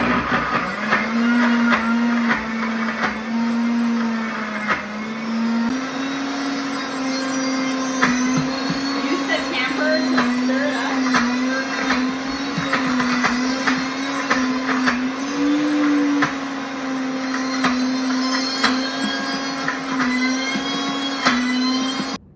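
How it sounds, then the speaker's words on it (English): Blender on its grind setting mixing hummus with cumin, a loud steady motor whine with a constant pitch and rattling grind, running continuously and close with no voices. "1/2 teaspoon of cumin, and let's give it a mix. Still on the grind setting."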